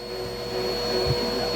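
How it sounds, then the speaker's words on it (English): A vacuum cleaner runs with a steady, close whine and hum while a kitten plays beside it, with a soft thump partway through. "The kitty fights vacuum."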